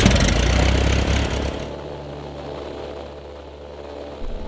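A small airplane engine drops from a loud, steady drone to a lower, quieter idle after about two seconds, holding a continuous low rumble to the end.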